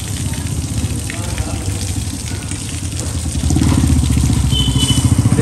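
Water is poured over a pet dog during a bath, making a loud, steady splashing rush that grows heavier and more rapid partway through.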